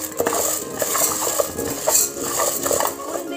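Urad dal dry-roasting in a pan over medium heat while a spatula keeps stirring it, with steady scraping and light metallic clinks against the pan that run throughout.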